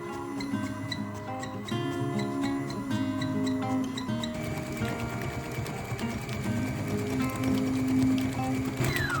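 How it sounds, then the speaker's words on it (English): Stand mixer fitted with a paddle attachment beating firm and silken tofu with sugar at medium speed, a steady mechanical whir with rhythmic clicking at first, then a denser, louder grinding churn, no talking. "mix the tofu, silken tofu, and sugar together for 2 minutes on medium speed"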